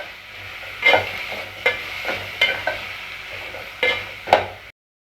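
Curry leaves and spices being sautéed in a pan for soya chunk gravy, a soft sizzle under several distinct stirring scrapes spaced about a second apart, then abrupt silence.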